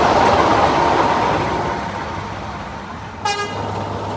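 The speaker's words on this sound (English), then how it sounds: "Here is 26007 leaving Watford, heading back up towards Bishop's Lydeard in a lovely grey livery." A Class 26 diesel locomotive pulls away from a station on a heritage railway, its steady engine drone and rolling noise loud and close, with a short horn toot near the end.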